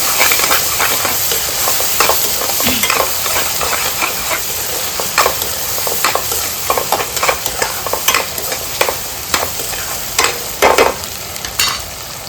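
Chopped tomatoes cooking in a pan for Maggi noodles, a loud continuous frying hiss and sizzle with repeated sharp stirring scrapes and taps of a spoon against the pan, no voices.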